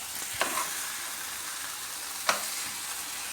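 Masala sizzles and fries on a tawa over a low flame, with a steady hiss broken by two or three sharper scrapes of stirring.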